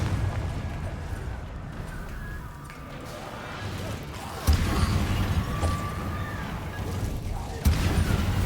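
The Confringo fire spell in Hogwarts Legacy goes off as sharp explosive bursts, two loud hits about three seconds apart, over rumbling combat noise.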